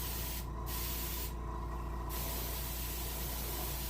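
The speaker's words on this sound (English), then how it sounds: "Now I'm going to go ahead and paint my fins with this color as well." Airbrush spray painting the fins of a brook trout taxidermy mount, a close, steady hiss of spraying broken by two brief pauses near the start.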